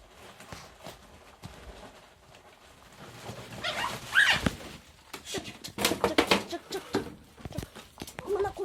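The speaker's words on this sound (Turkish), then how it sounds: "Bu köpek." A dog in a garden makes scattered yelps and snuffling noises outdoors, mixed with rustling and scuffing that grow louder toward the end.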